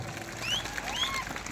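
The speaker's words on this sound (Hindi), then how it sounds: "आप सबके लिए जोरदार तालियां बजा दी जाए" Faint applause from an audience at a speech for a World Tribal Day event, soft and brief, with a few scattered high chirps over the low clapping hiss.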